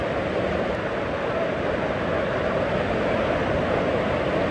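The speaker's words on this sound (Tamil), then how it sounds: "தண்ணி கடுமையாக வருது" A mini waterfall at Himidurawa rushes strongly, giving a dense, steady roar of falling water that fills the whole stretch with no break.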